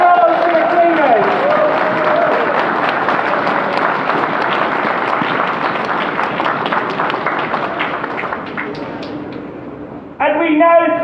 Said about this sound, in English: round of applause for the cleaners